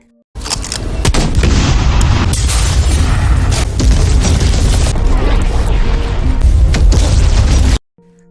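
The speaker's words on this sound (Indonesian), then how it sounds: "Pas semuanya udah deket, langsung ditembak tabung gasnya." A gas tank is shot and explodes in the 2023 disaster film The Flood. It sets off a loud, roaring blast that holds as a dense, rumbling fireball for about seven seconds, then cuts off abruptly.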